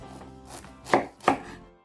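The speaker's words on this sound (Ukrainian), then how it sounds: "нарізаю на шматочки товщиною десь по 2 см" A knife chops through pumpkin twice in quick succession, cutting roughly 2 cm pieces, two crisp cuts against a board, close and fairly quiet.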